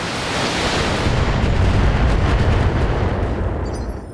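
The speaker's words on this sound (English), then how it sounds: "I'm just going to go ahead and launch some missiles" Missile salvo launched by a mech in BattleTech, a loud, sustained roar of launches and impacts building through the middle and fading slightly toward the end.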